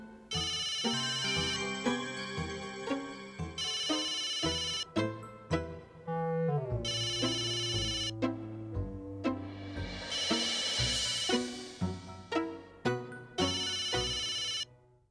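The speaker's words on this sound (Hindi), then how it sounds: "एक काम करता हूँ, टप्पू को फोन करता हूँ।" A telephone ringtone plays as a melodic electronic tune, repeating in bursts with brief pauses over about fifteen seconds, clear and alone with no talk.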